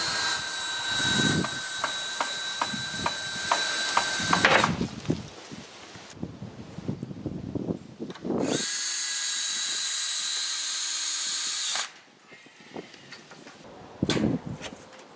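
Power tools work on a garden gate being refixed, with several loud drill bursts, whirring and rattling, separated by short pauses and handling noise.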